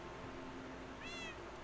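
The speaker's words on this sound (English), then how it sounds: "Mittens. Meow meow." Mittens, a cat in the Minecraft video game, gives a single short meow over a steady low background hum. The meow is faint, brief and heard alone.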